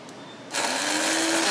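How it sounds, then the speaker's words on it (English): Coffee grinder grinding Szechuan peppercorns starts abruptly after a short quiet lead-in, then runs as a loud, steady whirring motor buzz with a rising hum, continuous to the end. "I'm going to actually grind them. I'm using my coffee grinder."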